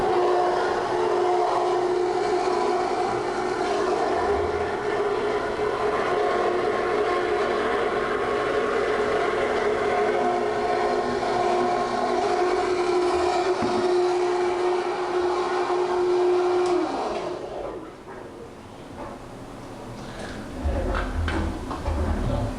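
Swimming pool pump running steadily with a constant motor drone and tonal hum, close and loud, before the sound shifts and drops near the end.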